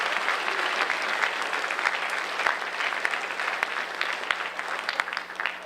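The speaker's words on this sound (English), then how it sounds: "So a nice round of applause for John." Applause from the audience at a high school Flag Day honors ceremony, a steady, fairly distant patter of many hands clapping for several seconds with little talk.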